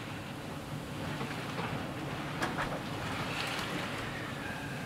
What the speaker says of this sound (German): die Segel oben sind und wir vom Wind getragen werden